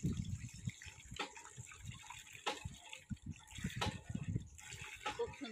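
Water gushes from a village hand pump in Sangli, arriving in repeated surges about every second or so as the handle is worked, close by with no talk.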